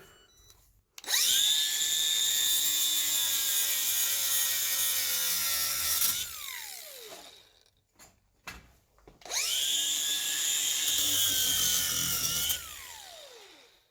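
Power tool cutting soft aluminum during a Ford Festiva B6D engine swap, two loud sustained whining runs of several seconds each, separated by a brief pause with small clatters, with no talking.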